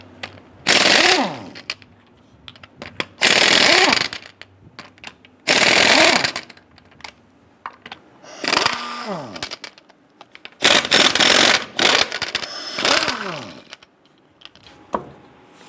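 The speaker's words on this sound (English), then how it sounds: "Using our 7/8 socket, let's go ahead and loosen and remove our lug nuts" Impact wrench bursts loosening and removing lug nuts with a 7/8 socket on a 2002-2008 Dodge Ram 1500 rear wheel: about six loud, rattling hammering bursts, each a second or so long, separated by short pauses with faint clatter.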